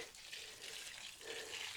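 Water runs steadily from a hose onto fig plants in a hot midday greenhouse, a soft continuous hiss and splash close by, with no talking.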